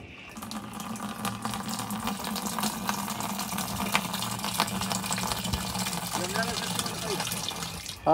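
Water pours steadily from a pipe into a pot at a muddy outdoor spot, a continuous close gushing with a faint voice underneath.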